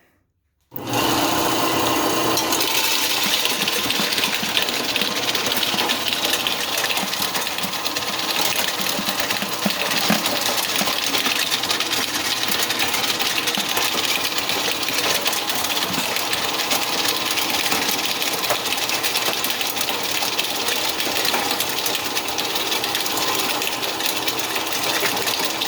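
A machine cracks acorns for acorn flour, running as a loud, steady, dense grinding and rattling clatter that starts abruptly after a brief silence and keeps up continuously to the end.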